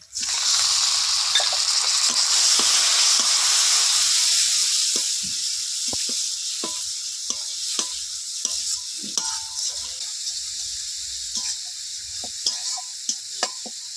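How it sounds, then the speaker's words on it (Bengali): Chili powder, turmeric, salt and chopped tomato are sautéed into a spice paste for a mustard-oil fish curry with bansh pata fish. A loud, steady sizzle fades after a few seconds into quieter frying, broken by repeated sharp scrapes and taps of the stirring spoon. "মশলাটা কিছুক্ষণ কষিয়ে নিয়েছি"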